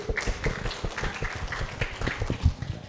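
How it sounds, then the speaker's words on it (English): Applause for presenters at a gelar pamit for the Seoul International Invention Fair 2024, steady rapid clapping from a small group, moderately close and continuing throughout. "Again, a round of applause for them"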